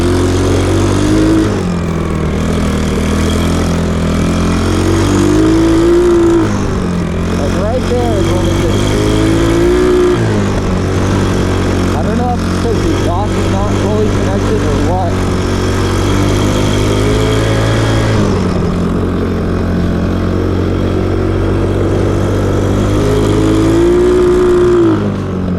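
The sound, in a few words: swapped engine of mini quad running and revving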